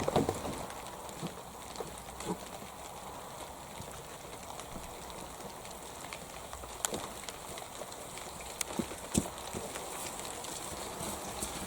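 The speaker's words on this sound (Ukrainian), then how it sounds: "дощик припустився" Steady rain patters on surfaces with scattered louder drips and taps, a continuous wet hiss with no voices.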